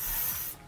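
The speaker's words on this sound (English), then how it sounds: "So this is just a spray that makes your hair smell really good and just shine" A short blast of BioSilk Shine On hair spray, a close, bright hiss lasting about half a second before cutting off abruptly.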